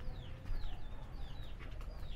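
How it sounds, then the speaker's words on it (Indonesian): Chickens and a rooster in a Balinese backyard give repeated short clucks and calls over a steady rustling outdoor background, fairly close and moderately loud. "nah ini ayam jantan nih ya, suaranya yang diutamakan."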